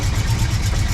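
A BMW E30 with the M-Tech package idles steadily at close range, a smooth low rumble with an even pulsing rhythm and no voices over it.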